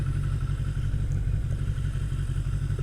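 A motorcycle engine runs close by with a steady, deep, rumbling drone and a rough throbbing texture throughout, with no clear separate rev and no voices.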